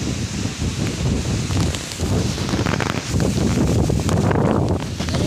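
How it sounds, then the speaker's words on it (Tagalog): Strong typhoon wind roars with rain beating down outdoors near rice fields, a steady, loud, broadband rush of gusts and downpour that never lets up. "Lakas ng hangin at ulan."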